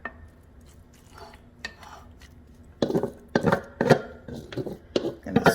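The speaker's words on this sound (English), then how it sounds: "So I'm going to add into my buttered baking dish all of my hash brown mixture" A spoon scraping taco hash brown mixture into a buttered casserole baking dish, with soft scrapes at first building into a run of louder clattering knocks and scrapes against the dish.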